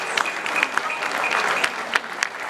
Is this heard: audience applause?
yes